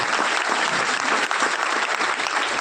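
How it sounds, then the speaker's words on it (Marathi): An audience claps together at a birthday event for MLA Vikrant Patil in Panvel, dense continuous applause at an even level for the whole span. "आपण सगळ्यांनी टाळ्या वाजून अभिनंदन करू"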